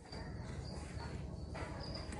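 Large crickets swarming in Túcume, Lambayeque after heavy rains produce faint, thin chirping over a dense, steady noise bed, with brief high tones recurring through the short stretch.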